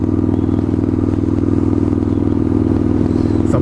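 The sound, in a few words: straight-pipe motorcycle exhaust while riding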